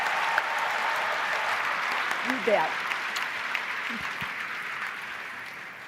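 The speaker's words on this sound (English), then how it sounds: "Big round of applause for Randy and for everybody who worked on this." Audience applause at a teachers' union convention, a broad steady wash of many hands clapping in a large hall, fading slightly toward the end, with a brief spoken reply from one person over it.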